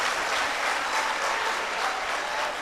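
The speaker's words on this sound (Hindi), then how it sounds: "जरा सा ताली बजा के बताइए कि आप सब लोग मौजूद हैं" Audience clapping at a mushaira poetry gathering in Yavatmal, a brief, even burst of many hands heard from a distance and held at a steady level.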